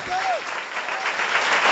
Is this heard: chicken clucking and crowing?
no